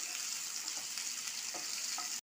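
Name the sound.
chopped onions frying in oil with garam masala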